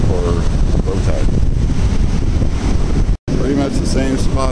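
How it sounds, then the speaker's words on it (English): Strong, cold wind blows across a beach at low tide, buffeting the microphone with a constant loud roar and rumble. A voice speaks faintly underneath, and the wind briefly cuts out once. "Neptune is angry today. Windy and cold."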